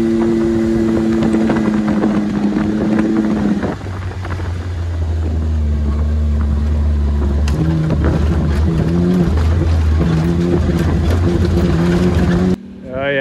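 A 2021 Jeep Gladiator heading downhill, its steady engine drone humming close by and shifting pitch now and then as the truck rolls along, with voices talking over it.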